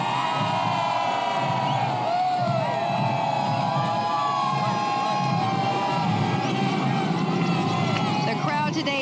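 An enthusiastic crowd lines the route of the Toronto Santa Claus Parade, cheering, whooping and shouting steadily throughout, with children's high voices and general babble blending into a continuous roar.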